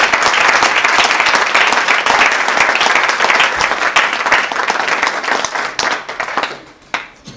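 A church congregation applauds in a dense, sustained burst of clapping that fills the room, then thins out and fades over the last couple of seconds.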